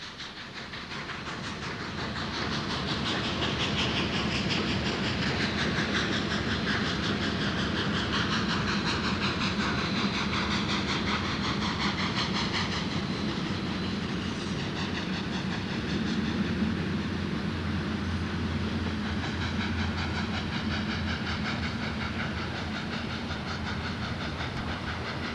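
A Union Pacific special train running, with the steam locomotive 844 pulling it: a loud, sustained rumble and hiss of the passing train that continues steadily for the whole stretch, with no voices.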